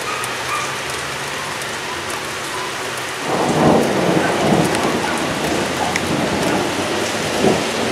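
Heavy afternoon rain pours steadily during a thunderstorm in Crestline, California, and a deep rolling rumble of thunder swells midway and lingers beneath the constant hiss of falling water.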